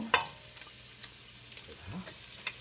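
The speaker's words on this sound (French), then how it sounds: "Alors, je vais jeter mes oignons." Onions tossed into a hot pan for a chickpea and coconut milk dish, a brief clatter followed by a faint, low sizzle with occasional spoon taps against the pan, quiet and close.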